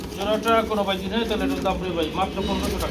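A male pigeon calls with repeated throaty, rolling coos close to the microphone, each phrase swelling and falling in a steady rhythm, while people talk nearby.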